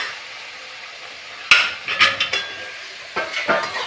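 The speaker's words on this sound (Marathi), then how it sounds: "आपलं तांदूळ त्यामध्ये हलवून घेऊ" A spoon scrapes and knocks against a cooking pot while rice is stirred in for chicken biryani, a sharp first clank followed by a few quick scraping strokes, then another short burst of stirring, close and alone.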